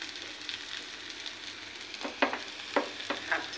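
Chili and turmeric powder being stirred in a frying pan for a kochur loti dish, with a steady soft sizzle of oil and several distinct scraping spoon strokes near the end.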